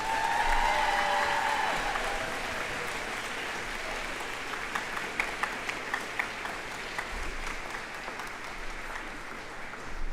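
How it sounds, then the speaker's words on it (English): At a junior high moving-on ceremony, an audience gives steady applause for a group of graduating students. A few louder individual claps stand out as the clapping continues, with a voice briefly heard at the start. "And a lovely round of applause for this first group."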